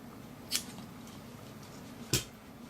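Scissors snipping paracord, with two sharp, close cuts about one and a half seconds apart over a quiet background, without any speech.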